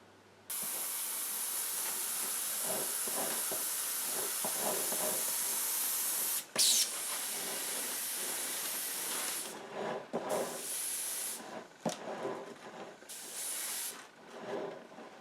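Steady hiss of an airbrush spraying a grimy black weathering mix close by, running continuously for several seconds, then breaking into shorter on-and-off bursts.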